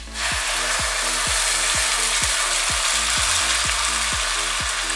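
Ground tomatoes with chopped ginger sizzling in a hot pan as a spoon stirs them in regular strokes, a loud steady frying hiss with rhythmic scraping knocks about twice per second.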